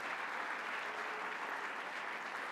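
Steady, sustained applause from an audience at a New York governor's public announcement event in the Bronx, an even wash of many hands clapping with no speech over it.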